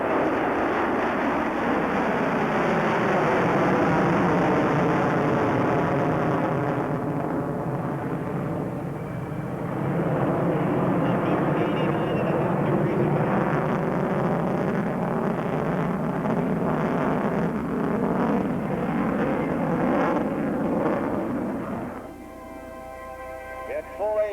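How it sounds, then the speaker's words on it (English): A B-1B bomber roars past loudly for a long stretch at an air show, pitching up toward vertical, a broad rumbling whoosh with shifting pitch that swells, holds, and fades near the end. "the B-1B comes across the show line, now pitching up toward the vertical"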